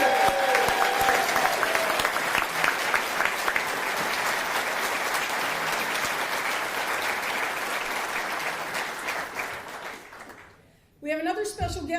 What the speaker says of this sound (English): let's say thank you, Mr. John Bolton, with a ruckus round of applause